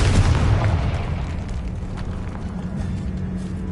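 Confringo blasting spell in Hogwarts Legacy on PS5: a loud, close booming explosion at the start that rumbles and slowly fades into a lingering low roar.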